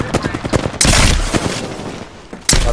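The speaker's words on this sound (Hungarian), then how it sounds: "Nem értem, onnan jönnek a lövés, nem tudom hova fussak." Gunfire in the video game Apex Legends: bursts of rapid automatic shots and several heavy blasts, loud and close, in quick irregular volleys.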